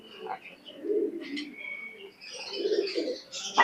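Teddy pigeons softly cooing up close, several low throaty coos with a few higher chirps.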